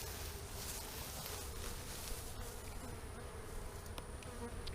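A steady, dense buzz of many honey bees droning close by, continuous and unbroken throughout.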